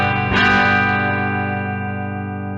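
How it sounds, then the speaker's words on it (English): A sustained guitar chord rings out with lush reverb, its wash slowly decaying over a couple of seconds after a single strum. "So this first one is just the reverb we've been hearing this whole time."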